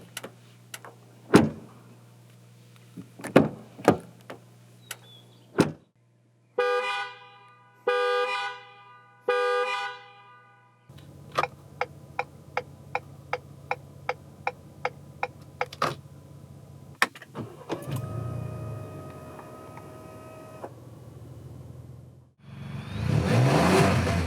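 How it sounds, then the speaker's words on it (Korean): A 2021 Ford Expedition with an exhaust tuned to sound like a V8 starts, idles and revs in several bursts, with horn-like tones, a string of rapid ticks and a loud closing rev, heard close with no talk. "배기 사운드를 8기통 느낌 나도록 독특하게 튜닝했죠."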